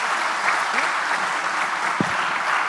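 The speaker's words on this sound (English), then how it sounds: "And let's give her a round of applause." Conference audience applauding in a hall, a steady wash of clapping heard fairly close and continuous throughout, with a brief voice-like sound partway through.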